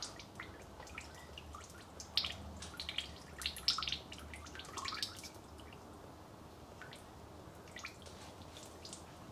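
Engine oil drains and drips from the sump of a 2013 Ford Transit Custom 2.2 diesel, faint irregular drips and trickles with a brief busier patch, heard alone.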